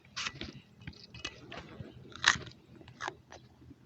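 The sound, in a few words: person chewing a plant root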